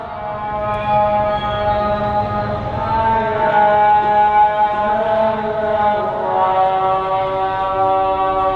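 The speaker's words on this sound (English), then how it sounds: "the call to prayer is just about to start" Call to prayer sung from minarets across Lahore, a long sustained amplified voice with wavering held tones over the city, loud and reverberant, mixed with distant street noise.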